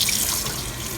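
Tap water runs steadily while rinsing a Thanksgiving turkey in a sink, a close, continuous hiss and splash with no pauses.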